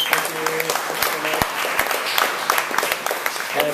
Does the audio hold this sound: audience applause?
yes